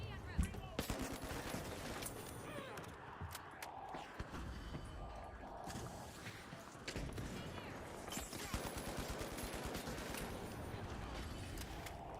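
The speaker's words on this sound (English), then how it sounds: "The hell is shooting at me?" Rapid, dense gunfire from the video game The Finals keeps up in bursts throughout, with thuds and mechanical clatter mixed in and a voice talking over it at times.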